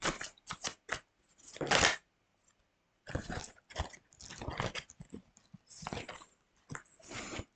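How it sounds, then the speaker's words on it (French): Oracle cards are shuffled and drawn in quick bursts of papery riffling and slapping, broken by short pauses. There is no talking. "je vais vous tirer quelques cartes de la sagesse de l'oracle"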